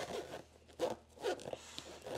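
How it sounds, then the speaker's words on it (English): An Oreck magnesium upright vacuum (LW1500RS) has its cloth bag zipped shut during reassembly: a few close, raspy zipper pulls in quick uneven strokes, with no talking. "We are going to zip up the bag here"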